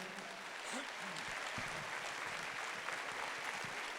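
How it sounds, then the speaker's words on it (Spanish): A church congregation applauds, a faint, distant, continuous wash of clapping with a few low murmurs mixed in. "Dele ese aplauso al Señor."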